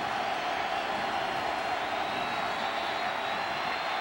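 Stadium crowd at a 2006 Louisville vs Pittsburgh college football game, a steady, dense roar of cheering that holds at an even level throughout with no breaks.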